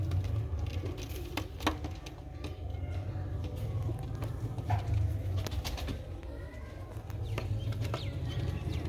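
Sialkoti silver chhat pigeons coo in soft, repeated low rolling calls, with scattered chirps and light rustling around them at close range and no talking.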